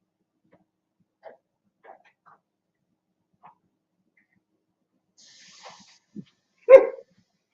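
A dog gives a few faint, scattered yips and whimpers in a quiet room, ending in one louder close bark.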